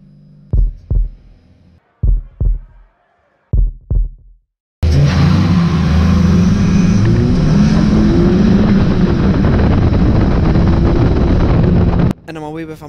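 A stock car starting the final race at the Racewall, its engine roaring up loud and steady after a few sharp thumps, holding a dense throbbing drone before cutting to a brief rattle.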